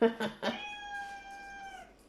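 A cat meows once with a long, drawn-out tonal cry lasting over a second, close by, right after a few brief bursts of human speech at the start.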